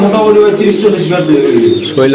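Pigeons cooing at a pigeon farm in Bangladesh, a continuous loud close chorus of low throaty coos with people talking over it throughout.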